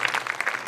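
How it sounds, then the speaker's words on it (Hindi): An audience claps at a poetry event for a Rajasthani poet, a brief burst of dense, fairly close applause with no talking. "एक बार जरा जोरदार तालियां बजाइए"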